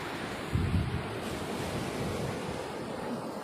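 Sea waves break on Kanhangad Beach in a steady, washing surf. The sound is even and moderately loud, with a slightly stronger surge near the start, and no voices.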